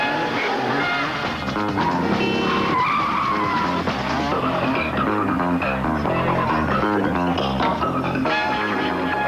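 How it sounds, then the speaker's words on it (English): A Volkswagen V6 Passat skids hard with loud tire squeal and engine roar throughout a car commercial, close and intense. "The V6 Passat. Nice car. Quick, responsive, room for 4."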